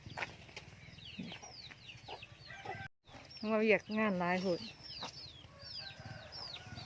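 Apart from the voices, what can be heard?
chickens clucking at feeding time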